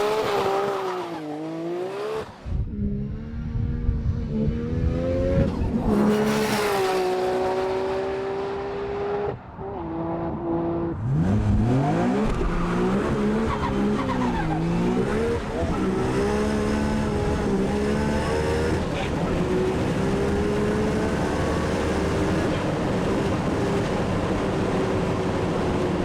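A turbocharged race car fitted with an OS Giken gearbox with very long gear ratios drives hard at speed, its engine note climbing and dropping through gear changes and revs, loud and close throughout with brief lifts.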